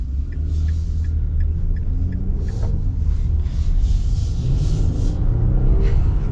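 A 2024 Nissan Frontier SL pickup truck with a 9-speed transmission accelerates, giving a steady, deep engine and road rumble from inside the cab, with faint ticking sounds over it.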